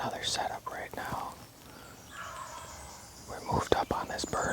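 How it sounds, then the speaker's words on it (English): A wild turkey gobbles on a timbered ridge, its calls faint to moderate and some distance off, mixed with close whispering between hunters. "He's hammering."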